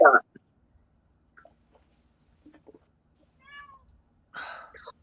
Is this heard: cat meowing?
yes